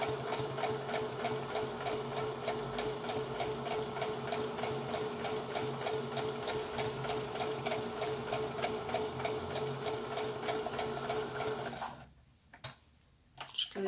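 Close-up sewing machine stitching the foot of a cloth doll, a fast steady needle chatter running evenly for about twelve seconds before stopping, followed by a few soft handling knocks.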